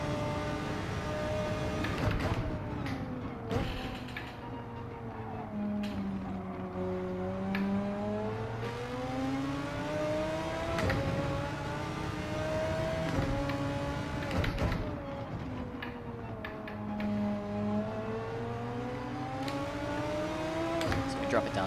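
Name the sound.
race car engine revving in Gran Turismo 7 video game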